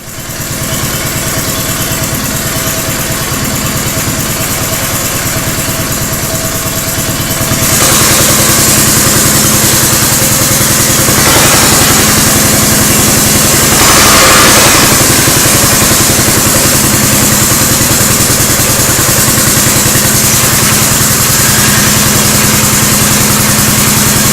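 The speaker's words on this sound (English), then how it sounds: "I'm going to try to start this thing and see how it runs without the filter on there" Kandy Rat mini bike engine running with its air filter removed, a loud close buzzing idle that rises in intensity partway through and keeps droning steadily with brief swells.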